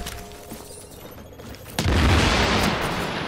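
An incendiary grenade going off in The Division during PvP play: a sudden loud whoosh-boom after a quieter stretch of gunfire, followed by a sustained roaring burn that fades slightly.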